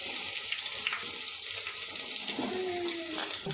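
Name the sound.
chopped onions deep frying in oil for chicken gravy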